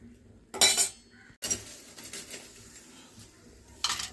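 Sharp metallic clanks of a lid set onto an aluminium biryani pot on a wood fire, one loud clatter, a pause, then scraping rattles and a final clink.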